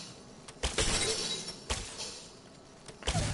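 A Shatter Cap shot in Apex Legends rings out with sharp, crackling bursts, several close blasts across a few seconds over a steady game background.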